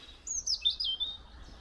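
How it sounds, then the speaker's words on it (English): A robin sings in Hurcott Woods, a short, high, thin warbling phrase of twittering notes, clear and fairly close over quiet woodland background. "I just love the songs of robins, I really do."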